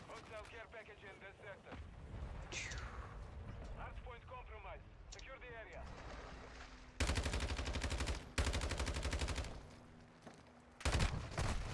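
Gunfire in a first-person shooter game, sustained loud automatic bursts with dense rapid rattling in the latter half, mixed with game voices and talk over busy battle noise.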